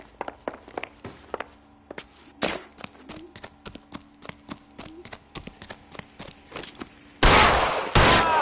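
Video game gunfire: a run of sharp, evenly spaced cracks, some louder and closer than others, ending in a loud, dense burst of shots with no talking.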